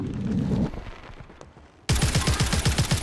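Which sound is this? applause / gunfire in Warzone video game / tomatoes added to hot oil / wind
gunfire in Warzone video game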